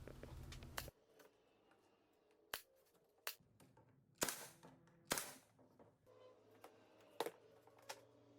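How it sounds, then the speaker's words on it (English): A pneumatic brad nailer drives nails to join painted-grade wood pieces of a window cornice box, giving sharp isolated snaps at irregular intervals over a quiet workshop background. "I just use brad nails to join the pieces."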